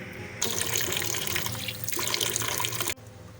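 Tap water runs into a sink while quinoa is rinsed, a close, steady splashing stream that starts suddenly, dips briefly midway and cuts off near the end.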